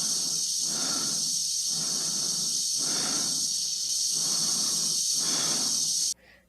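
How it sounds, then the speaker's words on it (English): Slow, heavy breathing inside a space helmet from the film 2001: A Space Odyssey repeats in five even inhale-exhale cycles over a constant high hiss, close and alone, ending abruptly. "you still know what they're going through because of the sound of their breathing"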